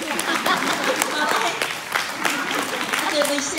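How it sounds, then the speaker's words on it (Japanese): Audience applause following an ocarina performance of a Latin medley at an ocarina gathering, sustained clapping from the hall with voices talking over it. "皆さん大きな拍手でお送りください。"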